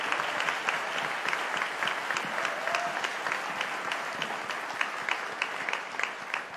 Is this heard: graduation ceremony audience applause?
yes